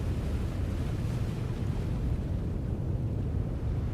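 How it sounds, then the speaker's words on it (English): Gentle river flowing nearby, a steady low rushing wash of water with a soft rumble, continuous and even with no voices. "A gentle river flows nearby."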